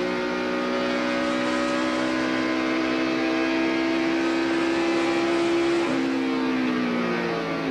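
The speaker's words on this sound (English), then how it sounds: "Trying to listen to the engine, see if we can hear him miss." Race car engine during the 2000 Global Crossing at The Glen race at Watkins Glen, a steady, loud, sustained drone with a slight pitch shift near the end, heard alone without talk.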